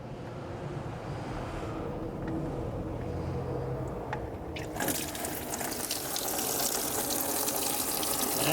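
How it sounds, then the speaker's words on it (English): Water drains out of a flooded Ford Focus RS engine in a steady splashing stream that grows louder and brighter partway through, continuing without talk. "Got a little bit of water coming out."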